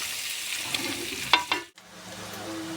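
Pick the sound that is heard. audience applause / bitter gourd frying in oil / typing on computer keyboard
bitter gourd frying in oil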